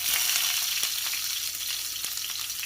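Mustard seeds, cumin and dry chillies frying in hot oil, a steady close hiss with a couple of faint pops and taps, no voices.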